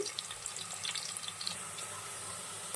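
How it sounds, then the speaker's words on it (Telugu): Onions fry in hot oil until reddish for a spicy goat head curry, a soft continuous sizzle with faint crackles, quiet and unbroken. "ఉల్లిపాయ కొంచెం ఎర్రగా అయ్యే వరకు వేయించుకోవాలండి"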